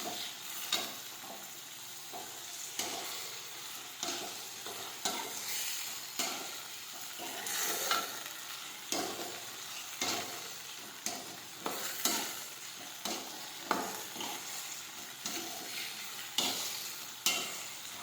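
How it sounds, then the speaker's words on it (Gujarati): Chopped tomatoes sautéing in a pan for ganthiya tomato curry, a steady soft sizzle broken by regular scraping stirs of a spoon, close and alone. "હવે આપણે સમારેલા ટમેટા નાખીશું. હવે આપણે સાતળી લઈશું."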